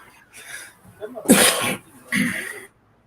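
A single sharp sneeze bursts out midway, with a softer breathy sound before it and another short exhale after, close to the listener.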